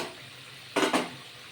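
Bengali fish curry with sesame paste bubbling in a pan, a faint steady background hiss broken by a brief louder burst of sizzling and stirring in the middle.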